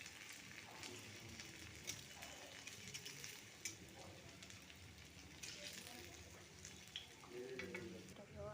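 Biulir dal bora fritters frying in hot oil, a faint but continuous crackling sizzle with scattered pops and occasional stirring sounds, steady for several seconds and unaccompanied by talk.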